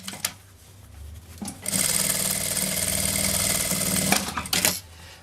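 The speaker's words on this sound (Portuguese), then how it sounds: "Deixando bem retinho e passo uma costura aqui pra fechar essa abertura." A sewing machine stitches a cloth bag's opening closed: a few short, close stitching bursts lead into a steady, rapid mechanical whirring run lasting a couple of seconds, followed by a brief final burst.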